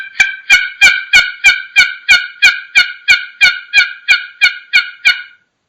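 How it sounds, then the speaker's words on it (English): Turkey assembly yelp played on a wooden box call with short, choppy strokes: about fifteen evenly spaced, loud, clear yelps in a steady rhythm, with little rasp and no talking. "I'm going to show and kind of demonstrate how I assembly yelp on a box call"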